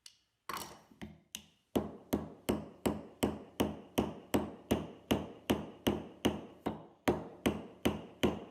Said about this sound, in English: I'm actually going to drive this piece of Paduk down in there